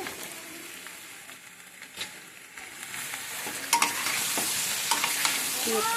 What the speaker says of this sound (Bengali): নাড়াচাড়া করার পরে এতে ঝিঙে আর বেগুন আছে, এটা দিয়ে দিচ্ছি এর সাথে।